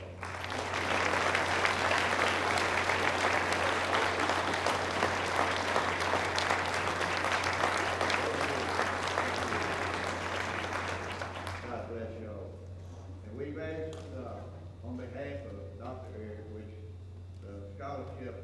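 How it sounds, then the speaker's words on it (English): An audience at a senior awards ceremony applauds loudly and steadily for several seconds, then the clapping fades as a speaker resumes talking. "If you'll give them a hand of applause."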